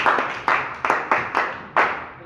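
A small group claps in a few sharp, uneven bursts during a student presentation on light reflection, with distinct separate hand claps close by and no voices.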